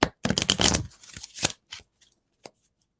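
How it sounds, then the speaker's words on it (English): A tarot card deck riffle shuffled twice, the fast ruffling flutter of cards dense and close at first, then easing into scattered light taps and snaps as the deck settles, with no talk. "we're going to give it 2 little riffle shuffles and then we will pull our card"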